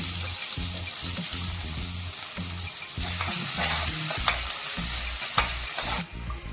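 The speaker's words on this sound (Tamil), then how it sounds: "கடுகு நல்லா பொரிஞ்சு நல்லா பொரியாக கட் பண்ண வெங்காயம் சேர்த்துக்கலாம்" Steady loud sizzling of onions frying in hot oil with popped mustard seeds, with occasional spoon stirs and scrapes against the pan; no voices.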